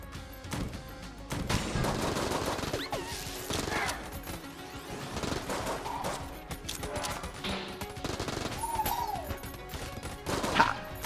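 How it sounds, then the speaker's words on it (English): Rapid bursts of gunfire from weapons in the bullet-hell game Enter the Gungeon crackle in dense, irregular volleys, fairly quiet overall with scattered sharper hits and game effects mixed in. "How do we fire that many bullets and we hadn't hit him there?"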